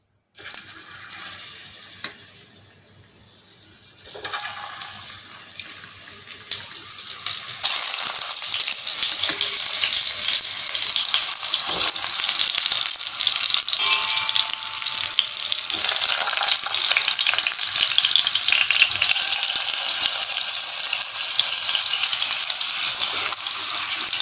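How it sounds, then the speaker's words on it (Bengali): Potatoes frying in white oil in a kadai wok for stuffed alur dom: a quiet start with a few clatters, then a loud, continuous sizzle swelling and holding steady with scattered stirring scrapes, no speech. "আমি কড়াই সাদা তেল দিয়ে দিয়েছি একটু। আর এই যে আলুগুলো, এইগুলোকে আমি এবার একটু এর মধ্যে ভেজে নেব"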